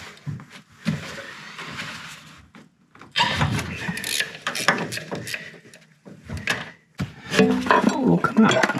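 Wrench and metal clinks while removing the bolt that holds the alternator to its bracket on a Honda Acty, irregular clatters and ratcheting close by, with someone talking intermittently.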